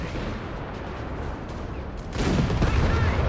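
Tank gunfire from a Panzer in Company of Heroes 3, a continuous rumble of battle noise that jumps louder and heavier partway through with a burst of booming fire, no voices.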